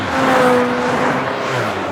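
Race car engines roaring for a LEGO race, a loud, continuous revving drone with shifting pitch, heard close and alone for two seconds.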